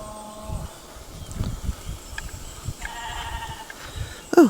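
Sheep bleat on a rural smallholding where grass is being mowed, several short wavering calls spread across the stretch, some near and some farther off, over a low outdoor background and a brief louder sound at the end.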